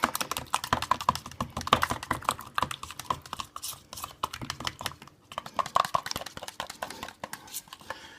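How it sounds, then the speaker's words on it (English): Yogurt being whisked with fresh garden mint in a bowl, a fast run of light rhythmic clicking and tapping strokes that keeps on steadily with a short pause midway, close up and moderately loud, with no talking. "of fresh garden mint. And whisk all that together."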